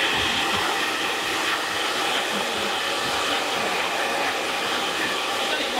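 A hair dryer blasting cold air to dry freshly cut hair, a loud, close, steady airy roar that holds evenly throughout with no voices.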